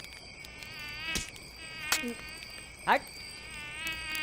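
Mosquitoes whining with a thin, high, wavering buzz that rises and falls, close to the ear, broken by a few sharp slaps and a brief spoken word.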